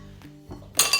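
Banana bread batter stirred in a bowl, a few soft scrapes and light clinks of utensil against the bowl, ending in two louder close clinks.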